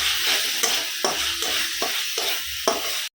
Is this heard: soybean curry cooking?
yes